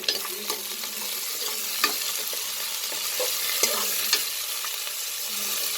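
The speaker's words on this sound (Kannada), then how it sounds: "ಸ್ವಲ್ಪ ಫ್ರೈ ಮಾಡ್ಕೊಳ್ತೀನಿ" Ingredients for biranji rice frying in a pan, with a steady close sizzle broken by occasional sharp taps and scrapes of a stirring spoon.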